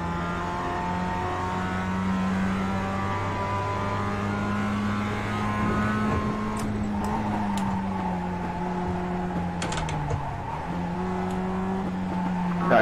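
Mazda Cup race car engine in the iRacing simulator at Summit Point, droning steadily with rising and falling revs through gear changes, a few brief clicks near the end, no talking.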